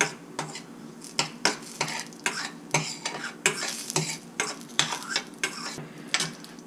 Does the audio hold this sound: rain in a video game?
no